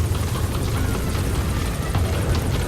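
A helicopter in the video game Metal Gear Solid V comes in to land, its rotor roar steady and loud across the whole stretch with dense low rumble and broadband wash, no talk over it.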